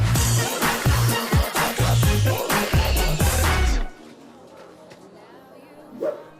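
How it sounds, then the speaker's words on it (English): A dog barks rapidly and loudly in repeated sharp yaps mixed with shouting voices, then the commotion cuts off into quiet room tone. "Stop that dog!"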